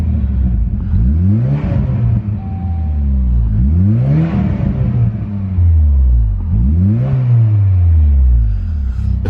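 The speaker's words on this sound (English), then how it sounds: "start it up, give a couple revs, and we'll see how it sounds" Saab 9-3 fitted with a custom intake revving three times in a row, each rev climbing and falling back to idle, loud and close with no talking.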